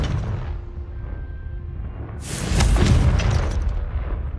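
A Confringo fire spell bursts in Hogwarts Legacy, a sudden booming blast about halfway in that follows low rumbling game ambience, then rolls into a crackling, fading roar.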